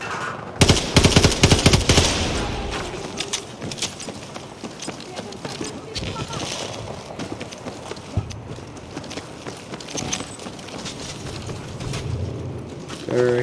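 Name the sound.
gunfire, from the video game Battlefield 2042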